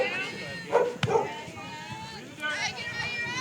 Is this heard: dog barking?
yes